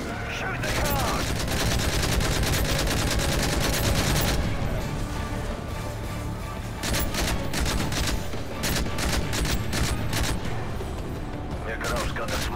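Heavy automatic gunfire and rapid bursts of shots from a Call of Duty: Modern Warfare 3 battle fill the whole stretch, loud and nearly continuous, with brief lulls between volleys and game voices under the shooting.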